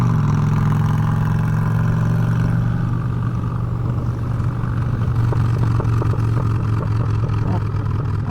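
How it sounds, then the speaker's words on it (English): A Honda Fury motorcycle engine throbs steadily and loudly while riding, a continuous low drone with wind rumble that holds an even level throughout. "The bike's heavy. Makes a good noise though."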